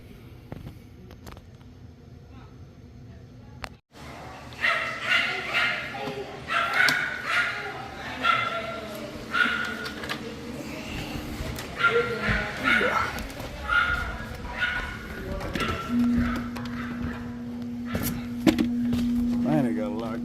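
A dog barks and yips repeatedly near an outdoor air conditioning unit being repaired, the barks close and insistent over a low mechanical hum, with a steady tone entering toward the end.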